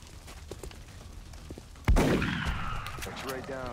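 After a quiet stretch, a soldier's weapon fires a single sharp, loud gunshot in XCOM Enemy Within, followed by a ringing, slowly decaying tail of in-game effects.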